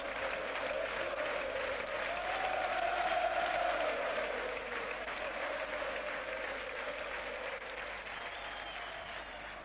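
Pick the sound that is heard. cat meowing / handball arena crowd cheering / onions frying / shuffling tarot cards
handball arena crowd cheering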